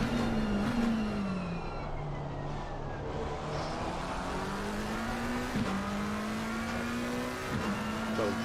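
Race cars at Spa in Assetto Corsa Competizione drone steadily along the Kemmel straight, a loud sustained engine note climbing through upshifts with a couple of sharp gear changes, other cars faintly audible in the background.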